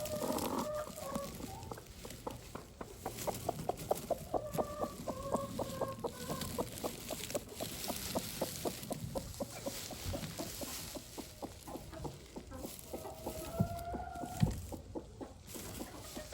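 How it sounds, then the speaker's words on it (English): Backyard rooster and broody hen clucking steadily at close range, with repeated short calls and a few louder squawks, all on a farm property with no talking. "This one here is a rooster."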